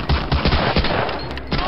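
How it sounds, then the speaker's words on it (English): Rapid machine gun fire in Medal of Honor, loud close bursts of rattling shots followed by a short pause and a few more rounds. "Oh, machinegeweer."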